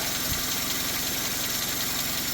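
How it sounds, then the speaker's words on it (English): A classic Renault 5 engine idles steadily with a low, even rumble and slight rhythmic throb, close by and continuous with no voices. "Lovely sounding engine though, isn't it?"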